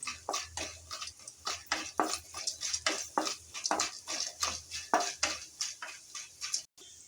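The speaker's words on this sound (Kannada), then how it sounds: "ಹಾಗೆ ಇಲ್ಲಿ 1 ಬ್ಯಾಡಗಿ ಮೆಣಸಿನ್ಕಾಯಿ, ಹಾಗೆ ಕಡಲೆಬೇಳೆ, ಉದ್ದಿನಬೇಳೆ ಸ್ವಲ್ಪ ಫ್ರೈ ಮಾಡ್ಕೊಳ್ಳೋಣ" Byadgi chili, chana dal and urad dal with mustard seeds are stirred in a frying pan. A spatula scrapes and clinks against the pan in a fairly quick, regular rhythm, soft and close.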